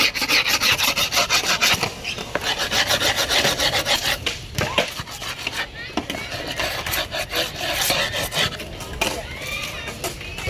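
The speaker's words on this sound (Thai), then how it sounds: "ยิ่งขูดเยอะ รอยเยอะยิ่งตัดง่ายครับ" A tool scrapes hard and continuously along the edge of a skateboard deck through the griptape to score a cutting line, a loud, gritty rasping of repeated strokes that eases off slightly near the end.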